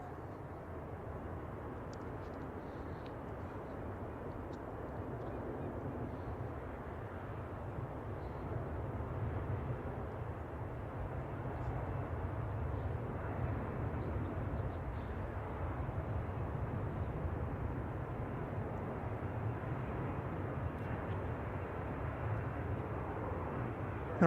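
An airliner in Pokemon livery departing San Francisco airport for Tokyo Narita, a distant low jet roar that builds slowly and stays steady for a long stretch, without any talk.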